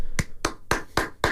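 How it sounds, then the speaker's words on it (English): A series of five sharp hand claps, evenly spaced and close, each a crisp brief snap over a quiet background. "Clapping. Audible clap right there."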